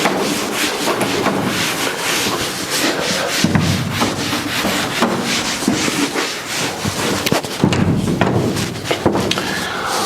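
Vigorous rubbing on a classroom board to wipe away written work, a continuous close scraping swish in repeated back-and-forth strokes with no talking.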